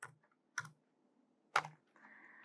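A few separate keystrokes on a computer keyboard, three crisp clicks spaced apart, close and quiet, then a faint hum.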